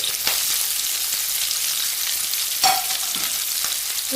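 Onions, green chilies and curry leaves sautéing in a pan, a steady close sizzle with a few sharp spatula scrapes and clinks, and no talk.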